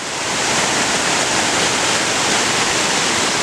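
A waterfall splashes over gold boulders in Dublin, California, a loud, steady, close wash of falling water that runs on unbroken with no voices.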